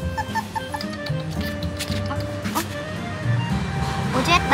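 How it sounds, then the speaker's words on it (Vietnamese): A newly bought pet dog at home gives soft whimpers and small yips under steady nearby talking, with mild background clatter. "Đây là bạn chó mới mua của nhà mình đấy."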